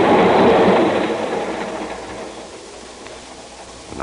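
A train rolls along as a sound effect in a 1946 radio drama, a loud steady rumble of wheels on rails that slowly eases and fades somewhat, heard alone without voices.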